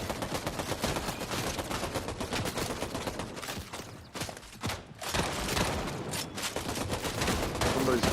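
Dense, continuous video game gunfire as bots shoot at someone, rapid overlapping bursts like a fusillade that barely lets up, with faint talk underneath.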